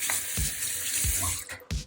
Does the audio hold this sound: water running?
yes